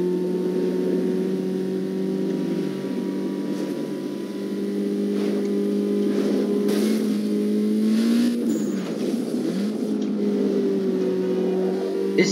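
Car engine in Need for Speed Underground 2 droning and revving steadily at close range, pitch rising and falling with gear changes over a continuous hum.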